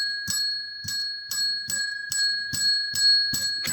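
A ring-for-service bell is struck eight times at a steady pace, each bright metallic ding sustaining a clear ringing tone that carries into the next strike.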